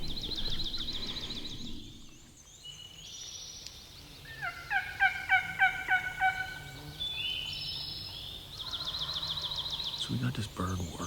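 Wild turkey in big Pennsylvania woods gobbling from a distance, several rattling calls spread over the clip, with a hunter's high-pitched calling and quiet rustle nearby.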